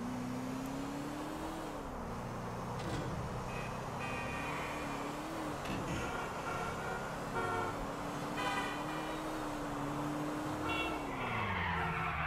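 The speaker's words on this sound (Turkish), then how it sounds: "Yani arabayı hile ile çağırmakla kalmayalım. En azından az da olsa sürelim." A car driven in GTA 4, with a steady engine drone that rises and falls as it shifts, some tyre skids and horn-like tones, continuous and fairly loud with no talk.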